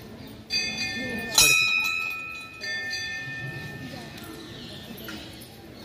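Temple bells ring in several separate strikes, each leaving a bright, lingering metallic hum that fades slowly, while people talk nearby.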